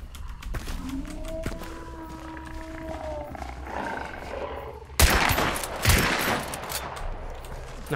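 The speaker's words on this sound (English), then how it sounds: "Nice shot, Walt." Gunfire in the video game Hunt: Showdown: faint shots and creature cries first, then two loud, close blasts with a boomy tail, and no speech.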